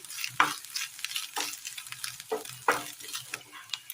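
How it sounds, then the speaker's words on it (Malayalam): Grated coconut sautéed in a pan for a Kerala chickpea curry, a soft sizzle broken by about four distinct scraping stir strokes of a spoon, close and fairly quiet. "നല്ലതുപോലെ ഒന്ന് വാട്ടിയെടുക്കാം"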